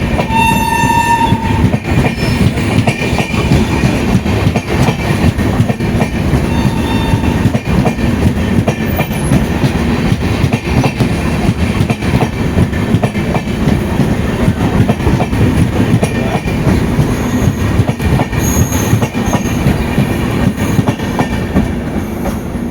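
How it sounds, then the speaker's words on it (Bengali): A Jogbani–Siliguri Town Intercity Express passes at Mukuria Junction, a steady loud rumble of rolling wagons with rhythmic clickety-clack throughout and a horn blast near the start, no voices. "Jogbani Siliguri town intercity express পেরিয়ে যাচ্ছে।"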